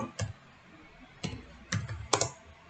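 Fingers tap on a computer keyboard in a few short, close bursts of clicking separated by brief pauses in a quiet room.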